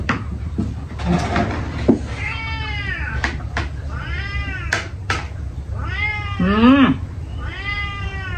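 A pet cat meows repeatedly at a mukbang meal, several drawn-out, rising-and-falling calls spread across the stretch, fairly close and clear, with a louder, strained cry near the end and faint table and room noise beneath.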